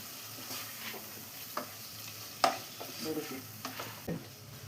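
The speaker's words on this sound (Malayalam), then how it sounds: "എല്ലാം കൂടെ ഒന്ന് മിക്സ് ചെയ്തെടുത്തിട്ടുണ്ട്" Thickly cut tomatoes with salt being stirred in a pan for a simple tomato curry, a quiet sizzle with scattered spoon scrapes and a sharper clink midway, close and without speech.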